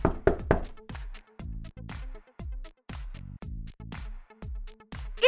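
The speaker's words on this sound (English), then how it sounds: "she heard the knock on the door" A knock on a door in a puppet show, a series of sharp, hollow raps repeating in clusters, close and distinct with short ringing tails.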